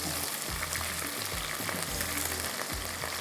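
Onions and curry leaves frying in oil for a kofta aloo curry, a steady close sizzle with soft stirring scrapes at regular intervals, no voices.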